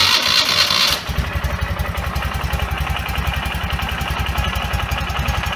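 A 2012 Ural Patrol motorcycle engine cranks briefly, then catches and settles into a steady, close, loud idle with a rhythmic low thumping pulse.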